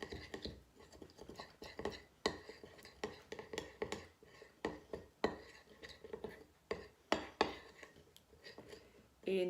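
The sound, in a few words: mixing two hair mask ingredients in a bowl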